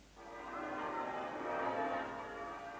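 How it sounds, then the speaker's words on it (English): Church bells of York Minster ring faintly in the distance, their tones overlapping into a soft, continuous peal. "The bells of York Minster rang forth."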